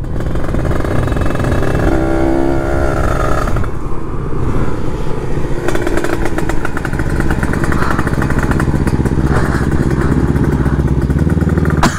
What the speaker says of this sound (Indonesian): Gila kenceng banget motor Nyali.